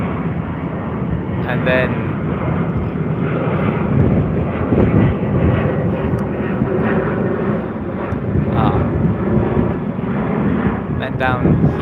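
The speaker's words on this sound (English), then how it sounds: "Here's our 737-800. This is a Qantas, probably off to Brisbane or something." A Qantas Boeing 737-800 jet rumbles past as a steady, broad engine roar lasting several seconds, with wind buffeting the microphone and a person briefly speaking.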